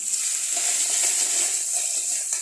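Ginger and garlic paste frying with salt in a pan for masala mutton, giving a loud, dense, continuous sizzle heard up close with no talking.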